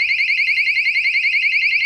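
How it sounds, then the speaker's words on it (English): A package protection device sounds its alarm: a loud, piercing electronic warble that rapidly oscillates in pitch at a steady, fast rhythm and continues without pause, close and alone. "I can't get this or else the alarm goes off."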